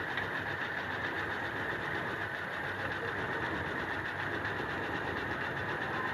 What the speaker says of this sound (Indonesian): posisi mesin seperti ini, bisa didengarkan sudah agak pincang gini